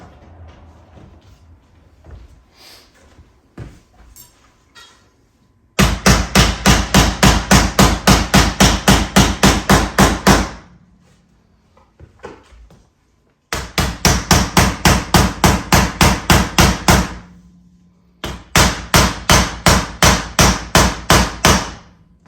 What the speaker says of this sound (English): I'm going to go around and hammer them all in and put that piece in